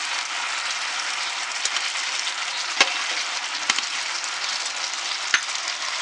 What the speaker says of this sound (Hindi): अभी इसके अंदर जाएंगे ये हमने फ्राई किए हुए एग